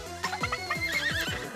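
A horse in Miitopia gives a clear, loud whinny, a quavering neigh of about a second and a half heard on its own.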